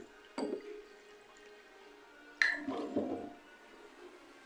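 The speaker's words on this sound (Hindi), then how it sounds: "ये देखिए यहाँ चावल शामिल करने के बाद उसमें पानी ऐड कर रही हूँ।" Water is poured onto rice in a cooking pot while making white matar pulao, heard as two short splashing pours close by, the second longer and fuller, with quiet pauses around them.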